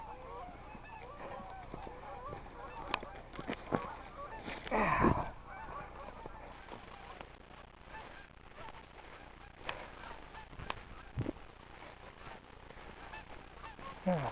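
A goose honks several times during a hunt, loud calls standing out around the middle of the stretch with fainter honks before and after over outdoor background noise.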